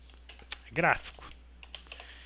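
Keys clatter on a computer keyboard as someone presses the Ctrl+V paste shortcut during an Excel spreadsheet lesson: scattered light clicks with one louder, denser burst of keystrokes near the middle, all close and fairly quiet.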